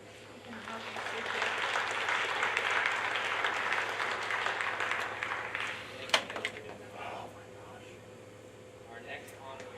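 An audience claps at an honor cord ceremony, a soft, steady patter of applause over a constant air-conditioning hum, fading toward the end, with a voice speaking faintly.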